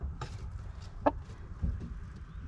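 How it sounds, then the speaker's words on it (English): Roosters in a coop cluck in short, scattered bursts, a few sharp calls rising over a low rustling background, close by and moderately loud. "These roosters are getting ready to go to their new home."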